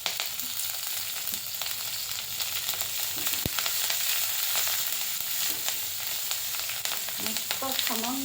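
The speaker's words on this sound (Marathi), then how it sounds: "मस्त खमंग फोडणी" Curry leaves and green chili tempering in hot oil for a pumpkin sabzi fry with a continuous crackling sizzle and a few sharp pops, steady throughout with no voices.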